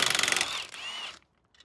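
Rapid hammering bursts of an impact wrench undoing 18mm brake caliper bolts on a Volvo V70 front brake, loud and close for about a second, then a whine and abrupt stop leaving quiet clicks.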